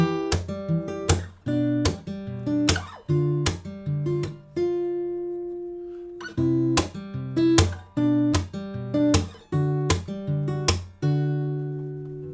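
Strummed guitar chords ring out in a steady rhythm, each strum sharp and bright, with a brief sustained pause midway before the strumming resumes.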